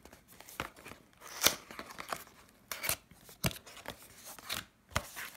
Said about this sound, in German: jetzt kommen wir zum Auspacken von der Eson Style Funktürklingel